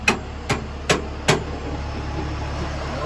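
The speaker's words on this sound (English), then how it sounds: "You got the green hammer there, I see." A green hammer striking, four sharp metallic blows at an even pace, followed by quiet background hum.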